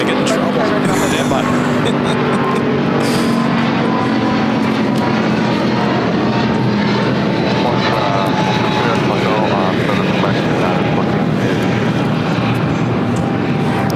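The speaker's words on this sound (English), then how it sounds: "United Airlines 1890 taking off to Newark on a 777-200." A United Airlines Boeing 777-200 takes off at LAX with a loud, sustained jet engine roar that swells and dominates throughout, and a voice speaks briefly over it.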